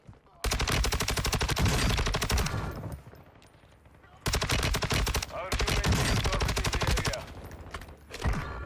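Loud, close rapid-fire automatic gunfire from a rifle in the video game Warzone on Ashika Island, in two long sustained bursts separated by a quieter gap, then a short final burst.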